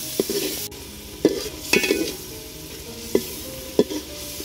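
Prawns sautéed with spices in a pan for a bottle gourd and lentil dish, quiet sizzling punctuated by several sharp spatula scrapes and knocks as they are stirred.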